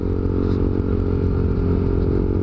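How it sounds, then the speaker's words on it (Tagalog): Motorcycle fitted with a loud aftermarket exhaust pipe while riding, a steady, close, throbbing engine drone with a rough clattering edge, continuous and loud. "tapos naririnig mo yung tunog ng tambutso mo."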